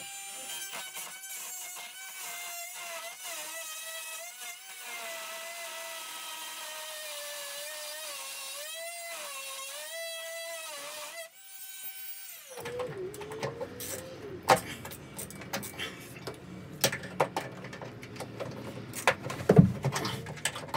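A power tool cuts the nut off an old boat thru-hull fitting, a high steady whine that shifts pitch under load and then gives way to rougher grinding and clattering, close and continuous.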